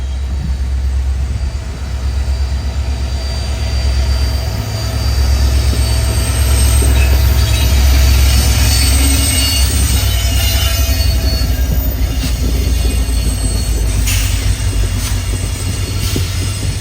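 Matsyagandha Express train running through Mangaluru Junction without stopping, a loud steady rumble of wheels on track with a low engine drone, rising and falling slightly, with high wheel squeal and a few clacks near the end.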